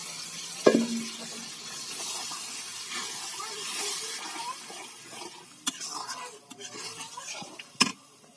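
Spice masala with onion, milk and lemon juice sautés in a pan, hissing and sizzling steadily, with a sharp utensil clank at the start and more clatter toward the end.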